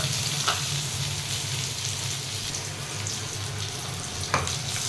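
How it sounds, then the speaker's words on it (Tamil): Onions and curry leaves sauté in a pan with a steady, close sizzle and faint crackle, and a couple of soft clicks from stirring, with no voices. "இப்போ வந்து கருவேப்பிலை சேர்த்துக்கோங்க. இதே வதக்கிக்கோங்க."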